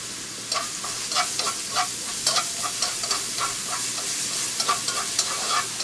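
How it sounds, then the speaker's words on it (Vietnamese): Ginger strips, minced lemongrass, shallot and garlic stir-fried in oil in a pan, a steady close sizzle broken by repeated scraping stirs in an irregular rhythm, with no talking. "xào tất cả lên"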